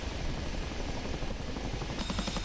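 Exterior engine and rotor sound of an OH-58 helicopter in a flight simulator game, a steady, loud, dense rotor chop and turbine drone that shifts slightly near the end.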